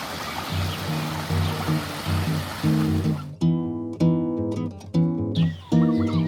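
A forest stream flows steadily beside a village path at Ban Pa Miang, a broad, close rush of water that plays alone at first before melodic music rises over it and largely covers it.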